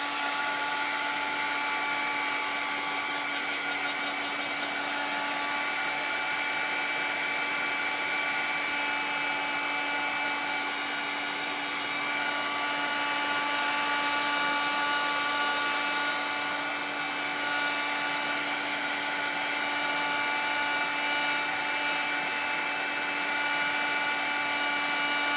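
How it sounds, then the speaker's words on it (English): A handheld hair dryer blows continuously at close range over wet paint on a sunflower door-hanger, a loud, unbroken airy roar with a steady motor whine. "I'm gonna throw the dryer on here again real quick."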